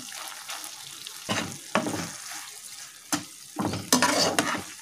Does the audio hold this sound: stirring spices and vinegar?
yes